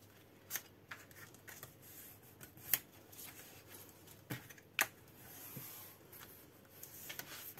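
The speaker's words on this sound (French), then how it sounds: "Et on vient plier notre papier." Paper being folded and pressed by hand for a scrapbooking structure, close and quiet, with a series of brief crisp rustles and creases at irregular intervals against near silence.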